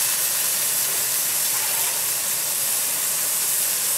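Water poured into a hot stir-fry pan holding pineapple, vegetables and chicken, bursting into a loud, continuous steaming hiss that stays steady and close throughout.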